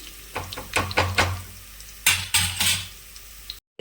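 Oil crackles and spits in a pan in short bursts as tempering for tomato dal fries, with metal stirring scrapes between them and a low steady hum underneath.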